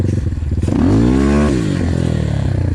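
A Kovi Advance 300 motorcycle engine revs up loudly as the bike climbs on a punctured tyre, the pitch rising sharply then dropping back to a steady throbbing drone, close and continuous.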